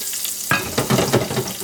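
Paneer cubes hitting a hot pan, a sudden sizzling burst followed by a few stirring scrapes and crackles, close and loud with no talking.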